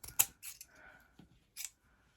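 Scissors snip several times at close range, a few sharp separate cuts with short quiet gaps between them, crisp and clear with no talk over them.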